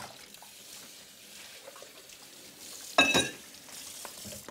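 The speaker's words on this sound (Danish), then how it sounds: "Så skyller man den lige under hanen her." Vitamix blender jug rinsed under a kitchen tap, faint background hiss and then a short, louder splash of running water near the middle, alone without talk.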